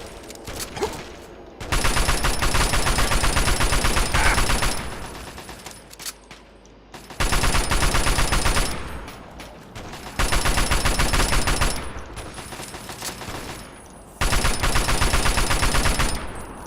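Gunfire in the video game Fallout 3, with long bursts of rapid automatic fire lasting a few seconds each, repeated four times with short quiet gaps between them.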